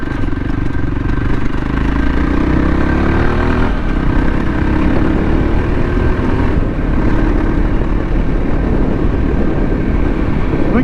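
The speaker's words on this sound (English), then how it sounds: "these bikes are noisy" An off-road motorcycle ridden downhill on a hillside trail, its engine a loud, steady drone held at low revs for the whole stretch, with no talking over it.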